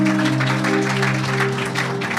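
A church congregation applauding and cheering for Jesus, a steady wash of clapping under a sustained tonal hum, loud and continuous throughout.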